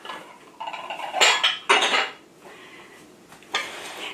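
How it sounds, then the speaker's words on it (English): Meatloaf mixture being added to a glass Pyrex baking pan, with bursts of clinking utensils and knocking dish sounds, some sharp scraping, then quieter handling in between. "Now I'm going to add it to my pan."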